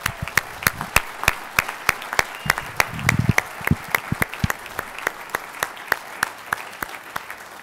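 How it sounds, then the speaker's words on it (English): Sparse applause at a college graduate recognition ceremony: distinct, sharp individual claps in a loose, irregular rhythm, a few hands close by rather than a full crowd, with a brief murmur midway. "let's give one rousing applause to all of our graduates"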